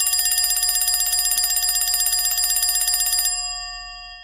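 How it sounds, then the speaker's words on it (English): A bright, rapid electric bell rings continuously at close range for about three seconds, then cuts off and its tone fades away, like a stock exchange opening bell. "Ring the bell like the stock exchange."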